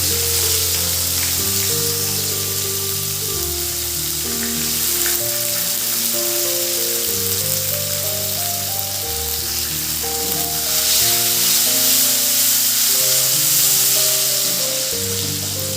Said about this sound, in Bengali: 30 থেকে 40 সেকেন্ড সময় ধরে একটু ফ্রাই করে নিয়ে দিয়ে দেব কোচানো পেঁয়াজ